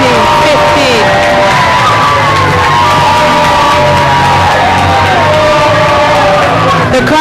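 Loud crowd at a Gibraltar versus Jamaica rugby match cheering, yelling and whooping steadily throughout, with scattered shouts rising over a dense roar.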